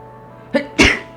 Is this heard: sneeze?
yes